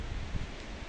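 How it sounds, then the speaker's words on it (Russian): Strong, hot hurricane-force wind gusting outdoors past a rose garden, a brief steady roar of broadband rushing noise buffeting the microphone. "сильнейший ураганный ветер, горячий."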